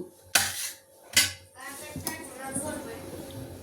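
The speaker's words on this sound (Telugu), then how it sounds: "ఆ రెండు గిన్నెలు కూడా చిన్నవి పెట్టు" Two small bowls set down one after another in a home kitchen, each landing as a sharp ceramic clink with a short ring, followed by softer clatter and movement, close and fairly loud.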